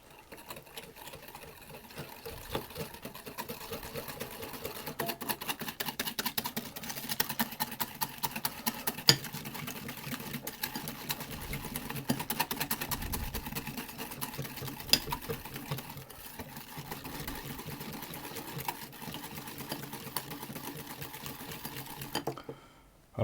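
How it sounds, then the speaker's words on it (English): Buttermilk cake batter whisked with milk and a pinch of salt in a bowl, a steady, quiet rapid tapping and scraping that runs for over twenty seconds with an even rhythm. "I'm going to whisk those around"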